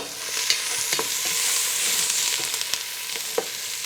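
Sliced onions and vegetables frying on high heat for Cajun rice pilaf, a close steady sizzle broken by sharp spoon clicks and stirring.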